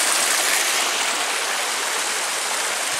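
Steady rushing stream of flowing water at Sunset Point in Mandu, a broad continuous hiss of water close by, loud and unbroken with no voices.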